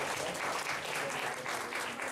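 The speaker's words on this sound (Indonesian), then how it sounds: "Please, tepuk tangan dulu dong." Applause from an audience at an artists' discussion event, a dense and steady patter of many hands clapping that holds at an even, moderate loudness throughout.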